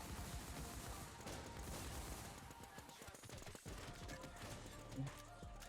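Gunfire in the video game WarZ: dense, sustained bursts of rapid shots that blend into a continuous rattling barrage, fairly even in level throughout.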